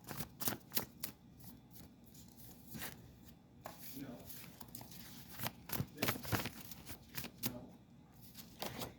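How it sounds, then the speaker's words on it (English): Oracle cards shuffled by hand in a run of quick, crisp riffling bursts and soft card slaps, close and moderately quiet, with brief pauses between bursts. "I'm going to pull some more oracle cards"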